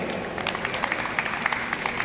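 Applause at a high school basketball coaches clinic, steady crowd clapping with overlapping hand claps, moderately loud and continuous, with faint voices underneath.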